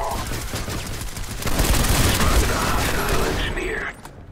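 Dense video-game gunfire rattles in rapid, overlapping bursts like a fusillade, loud and close, building in intensity midway before cutting off abruptly near the end.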